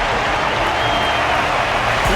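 Steady, dense crowd applause in the video game Honkai Star Rail fills the whole stretch, a loud continuous wash of clapping with no pauses.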